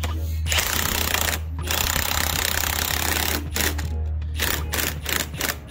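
Rapid clicking and buzzing of a socket tool tightening a bolt on a 2JZ-GE engine during a teardown, loud and close, running in steady stretches with a few short breaks and a constant low hum beneath.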